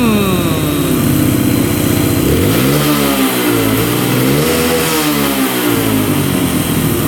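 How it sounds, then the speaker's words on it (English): A cheap used quad ATV engine with a slight hesitation, running without the choke, revs loudly and continuously up and down close by, a steady buzzing drone with rising and falling pitch and no talking. "and it actually revs out."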